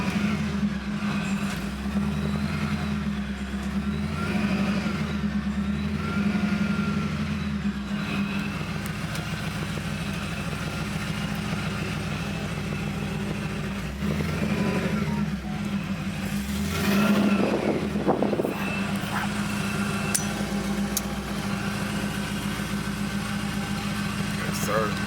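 A 700-plus horsepower Monte Carlo SS with a Whipple-supercharged 376 LSX drones heavily from inside the car, the engine note rising and falling through repeated surges while occupants talk over it.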